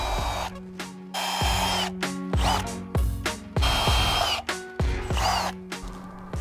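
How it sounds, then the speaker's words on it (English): A power drill bores screw holes for mounting an outdoor porch light box, whirring in several short bursts with clicks and pauses between them, close and loud. "Now I'm going to go ahead and drill 4 holes where I'll be putting my screws in to mount the box."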